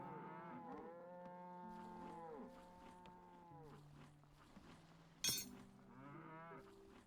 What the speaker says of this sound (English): we got 2 more cows that we can butcher.